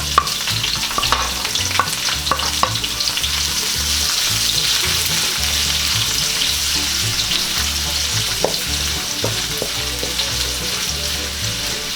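Garlic, then ginger, sautéing in an oil-filled pan while cooking Cebuano linabog: a steady, loud sizzle runs throughout, with occasional scrapes and clinks of stirring, and no talking.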